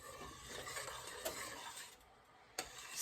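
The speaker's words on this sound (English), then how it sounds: "I will be continuing to stir" A spoon stirs foaming, darkening melted butter in a large pan, a steady scraping swish over a soft sizzle with two sharp taps against the pan, close and alone.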